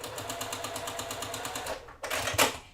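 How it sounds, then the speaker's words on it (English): A home sewing machine stitches small quilt fabric squares with a 1/4 inch seam, a steady close rapid needle rhythm that pauses briefly before a louder burst, with no talk. "take 2 of the small squares, right sides together, and sew them with a 1/4 inch"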